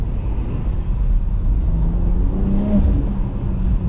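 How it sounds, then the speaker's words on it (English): A 2022 BMW X3M Competition accelerates hard from inside the cabin, a steady engine drone building with a faint whistling turbo whine rising over it, heard loud and close with no talk. "Bro, you hear the turbo noise"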